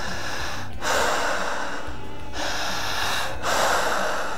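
Strong, heavy breathing close to the microphone during a hypnosis session, with loud forceful breaths in long rasping bursts separated by quieter pauses.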